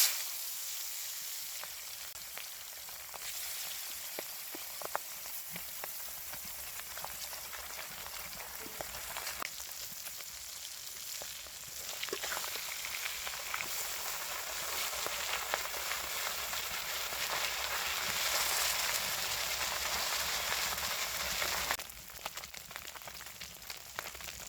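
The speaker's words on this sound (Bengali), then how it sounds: "তেল গরম হয়ে গেছে, এখনই মাছ দিয়ে দিই।" Sea chela fish frying in hot oil in a pan, a steady dense sizzle with crackling spatters that swells and stays loud throughout, with no talk.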